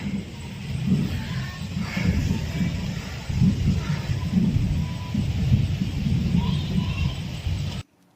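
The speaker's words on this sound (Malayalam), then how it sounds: "എവിടെയോ ദൂരെ പൂര വേല എന്തോ നടക്കുന്നുണ്ട് അപ്പോൾ അതിൻ്റെ മരുന്ന് പൊട്ടിക്കണതിൻ്റെ സൗണ്ടാണ് കേട്ടോ" Low, muffled booms and rumbles of temple festival fireworks roll in from far away, one after another over a steady background, deep and indistinct.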